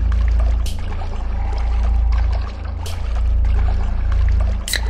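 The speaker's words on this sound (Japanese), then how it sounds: "間違えてソーダ使うボタンをしちゃった" A B Soda can is sprayed in the horror game Baldi's Basics, giving short fizzing hisses that recur a few times over a steady low in-game hum.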